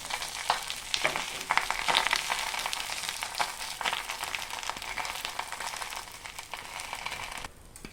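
Onion paratha frying in oiled pan at home, a steady close crackling sizzle with brief brighter bursts, continuous and fairly loud before cutting out near the end.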